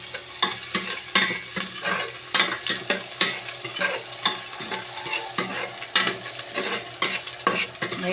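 Sliced ginger stirred and sautéed in a pan over low heat for sinigang, a soft continuous sizzle broken by repeated scraping strokes of a utensil in an irregular rhythm, with no talk.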